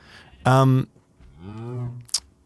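Two cow moos from Minecraft, a loud, drawn-out one near the start and a softer, lower one following, with a short sharp click at the end.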